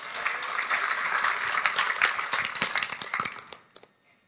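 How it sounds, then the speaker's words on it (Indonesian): Audience applause at a church seminar, a dense steady patter of many hands clapping for about three and a half seconds before tapering off into a few scattered claps. "Tepuk tangan."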